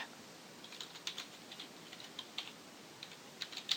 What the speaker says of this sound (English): Now, I'm just typing in some code